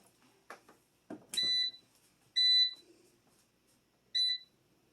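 Air fryer plugged in to preheat to 370 degrees gives three clear electronic beeps with pauses between them, after a few soft handling clicks, in a quiet room.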